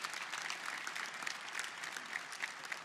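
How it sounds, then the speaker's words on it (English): Audience at a Class of 2024 graduation ceremony applauds faculty and staff, a steady wash of many hands clapping at moderate distance, fairly even throughout with no voices standing out. "Round of applause for all of them."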